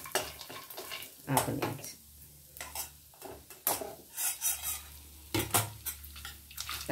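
Peanuts roasting in a hot pan for groundnut chutney, stirred with a metal spoon that scrapes and clinks against the pan at irregular intervals, with a soft sizzle underneath and a brief spoken word.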